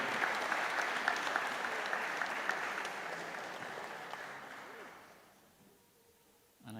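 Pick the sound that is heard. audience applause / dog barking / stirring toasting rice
audience applause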